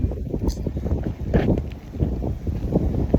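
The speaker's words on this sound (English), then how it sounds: "it's windy" Heavy wind buffeting a microphone, a loud rumbling roar with gusty swells and no clear voices.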